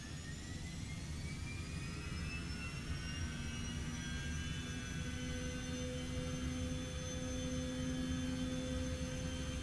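Simulated Cessna Citation X jet engines spool up at takeoff power in X-Plane 12, a steady loud whine with rising tones over a broad roar, continuous throughout with no talking.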